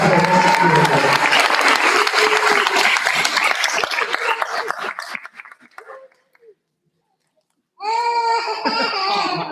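An audience at a school board meeting applauds in honor of Mrs. Kilgore, the dense clapping mixed with laughter and voices for about five seconds before fading into silence; a voice-like sound rises near the end.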